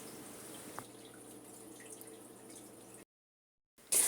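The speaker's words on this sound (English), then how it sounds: "now I'm just adding some cold water" Cold water pours into a cooking pot on a stove, a steady low running splash with a small knock, then it cuts off to silence before a sudden loud burst at the end.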